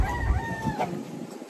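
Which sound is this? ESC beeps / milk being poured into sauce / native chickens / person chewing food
native chickens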